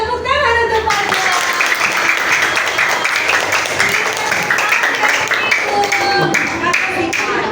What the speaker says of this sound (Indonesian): tepuk tangan untuk Fajar.